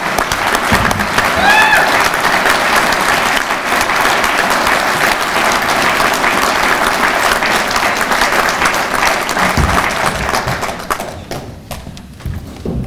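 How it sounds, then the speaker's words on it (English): A hall audience gives a warm round of applause for scholarship recipients at an American Legion gathering in Indiana, sustained even clapping for about ten seconds before fading out. "please give this year's scholarship recipients a warm round of applause"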